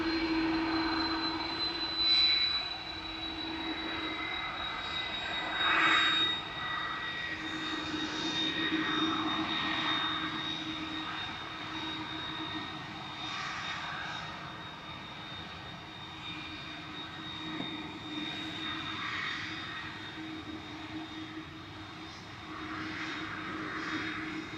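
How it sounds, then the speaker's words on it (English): An Aer Lingus UK Airbus A330-300 departs Manchester Airport for Orlando, giving a sustained jet engine roar with a whining tone that swells and fades a little, heard alone from some distance. "Heading off to Orlando now. Aer Lingus UK flight 935. This is G Isla A330-300."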